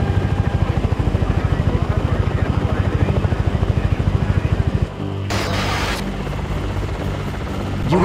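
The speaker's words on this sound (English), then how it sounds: "We're supposed to lose the damn helicopter." Helicopter in the video game Manhunt 2, a loud, close, steady rotor chop beating rapidly for about five seconds before cutting out, followed by a harsh rushing noise and then a lower drone.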